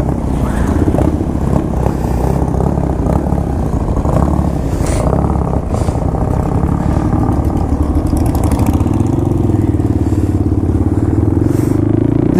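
Several Royal Enfield motorcycles ride together in a group, a dense, continuous engine drone with mixed exhaust rumble and wind noise, close and loud for the whole stretch.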